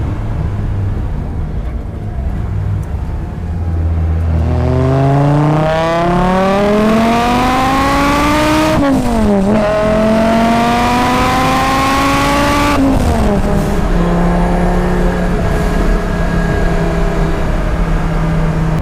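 A Porsche 944 with a swapped-in 07K five-cylinder engine revs up in long rising sweeps, dropping briefly between gear changes, loud and close with a gritty five-cylinder growl throughout.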